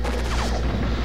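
Rapid gunfire and booming shots in the PS2 shooter Area 51, a dense continuous barrage at steady loudness with no talking, heavy and sustained for the whole moment.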